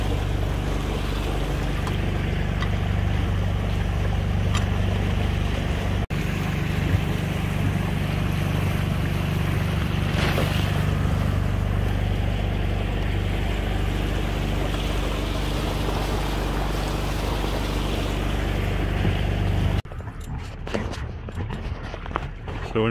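Steady wash of wind and water aboard a sailboat under way on a multi-day passage to the Benjamin Islands, a constant close rushing roar. Near the end it drops into a quieter, more broken texture.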